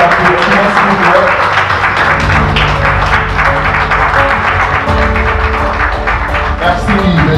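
Sustained audience applause at a professional certificate award ceremony, a dense, steady patter of many hands clapping that holds loud and even throughout, with faint background murmur.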